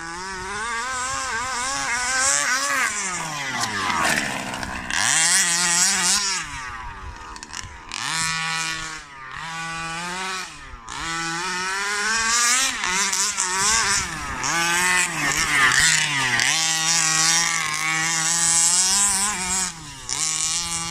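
A small high-pitched Rovan Baja RC car motor whines and revs continuously, rising and falling in pitch as the toy car speeds up and slows, loud and close.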